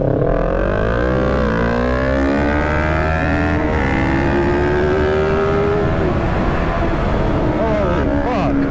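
Kawasaki Ninja motorcycle, a 650 or 636, ridden at full throttle, a loud continuous engine roar that climbs in pitch through the revs and shifts, steady and close with wind rush throughout.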